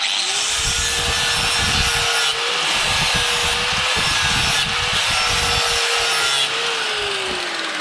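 Steady, loud grinding whine of a powered grinder sharpening a Stiga lawn mower blade, with a constant high hiss, rasping against the metal continuously, with slight shifts in pitch as pressure changes.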